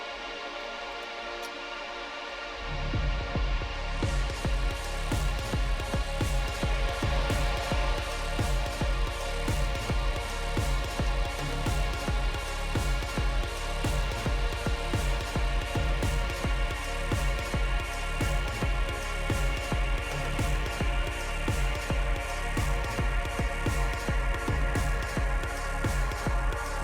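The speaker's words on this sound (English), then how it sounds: "what you're listening to at the moment is the SSP. I've just got a little patch here running." Percussa SSP Eurorack module playing a sustained polyphonic synth patch drenched in lush reverb, with steady drum hits from Ableton pulsing underneath, starting after a brief near-silent moment and continuing evenly throughout.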